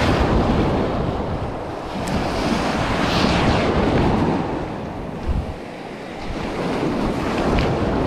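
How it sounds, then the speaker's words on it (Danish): Surf breaking along the Bornholm coast on a windy November day, a dense continuous wash of waves with heavy wind rumble on the microphone and no speech. "Bølgerne."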